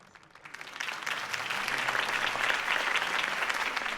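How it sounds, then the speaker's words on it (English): Applause from a crowd in Batman: The Telltale Series builds quickly and holds steady as a dense, loud wash of clapping. "could have heard that applause"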